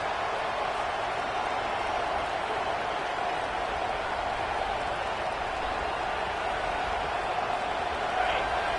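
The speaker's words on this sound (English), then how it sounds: "This crowd bringing the energy and noise early." Steady, dense roar of a college football stadium crowd during a game, broad and continuous throughout with no distinct pauses or standout voices.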